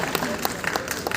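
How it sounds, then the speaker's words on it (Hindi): A crowd at a literature festival in Dumka applauds an arriving guest, a brief burst of scattered clapping with a voice mixed in. "हमारे जो तमाम लोग एक बार जोरदार तालियां हो जाए अमृत त्रिपाठी जी के लिए।"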